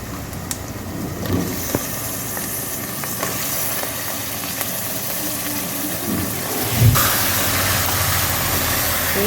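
Chicken pieces fry in hot oil with fresh ginger garlic paste and chopped onion, a loud, continuous sizzling hiss with occasional clatter of stirring close by.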